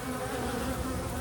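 Honey bees in a feral beehive hum in a dense, steady buzz, close up and continuous, with no other sounds.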